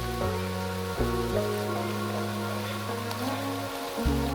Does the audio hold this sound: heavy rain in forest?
yes